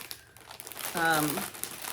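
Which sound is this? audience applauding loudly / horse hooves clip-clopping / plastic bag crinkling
plastic bag crinkling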